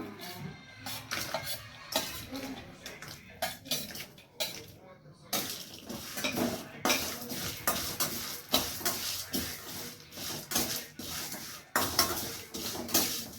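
Urad dal and green chillies stirred in a hot pan sizzle while a spoon scrapes and clinks against the metal in repeated close strokes, with soft frying hiss between them.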